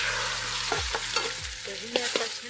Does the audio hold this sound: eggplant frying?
yes